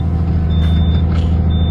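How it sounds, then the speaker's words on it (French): Inside a heavy vehicle or machine, a steady alarm tone beeps in a few short repeated pulses over a loud, low engine rumble. "je sais pas c'est quoi l'alarme"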